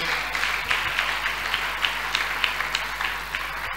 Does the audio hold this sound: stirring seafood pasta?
no